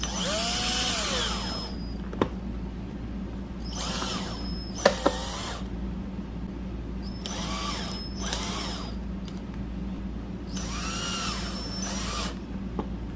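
A cordless power drill drives screws into an LED light fixture in an RV, with several whirring bursts of a few seconds each separated by pauses and brief clicks, close and steady.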